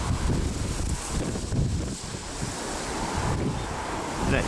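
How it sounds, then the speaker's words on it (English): Strong gusting wind buffets the microphone at Leeds Bradford airport, a continuous loud roar that swells and dips with no voices. "Still very windy here at Leeds Bradford."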